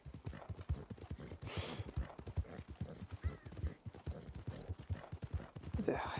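Horse hooves in a Rockstar video game clip-clop in a steady, close, even rhythm for the whole stretch, with a brief whinny-like burst partway through.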